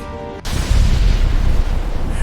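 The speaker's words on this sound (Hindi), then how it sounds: "तभी कुछ ही समय बाद विले पार्ले और वाड़ी बंदर में टैक्सियों में बम ब्लास्ट हुए" Bomb blast in a taxi as a sound effect in an animated documentary about the 26/11 Mumbai attack, a sudden heavy boom that cuts off a tonal bed and rolls into a long, loud, rumbling roar.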